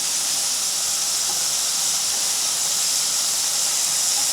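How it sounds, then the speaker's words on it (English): Beef searing in a hot pan, a steady, bright sizzling hiss that holds at an even level throughout. "Sear the beef on both sides until it is dark brown on both sides."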